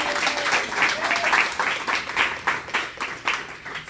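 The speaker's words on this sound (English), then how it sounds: "Let's give her a round of applause" Audience applause at a Women's March chapter launch event, a dense burst of clapping that pulses and fades, with voices cheering faintly beneath it.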